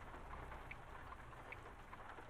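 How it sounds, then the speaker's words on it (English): Steady rain falls on a truck in American Truck Simulator while driving out of Connecticut, a constant hiss with soft drop patter and no voices over it. "looks like it's actually going to start raining on us here"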